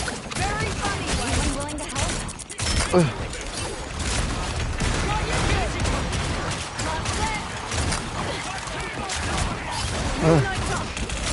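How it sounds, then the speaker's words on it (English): The Nemesis shotgun in the video game Marvel Rivals fires repeatedly in dense, loud bursts, with reload clicks and chaotic combat effects. A player talks throughout. "when you shoot it, it basically reloads like that, and you got infinite ammo, and you can keep shooting"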